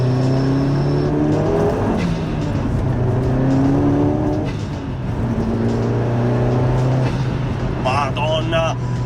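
A Ford Focus RS Mk1 with 280 hp revs hard several times, its pitch climbing and dropping in loud, close sweeps, with a sharper burst near the end.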